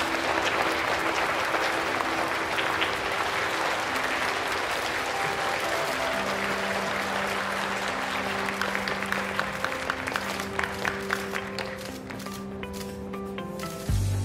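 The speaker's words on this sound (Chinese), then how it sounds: "让我们用最热烈的掌声欢迎" A crowd at a corporate company event gives a research department head a warm welcome onto the stage with loud, sustained applause, and light background music plays under it as it fades.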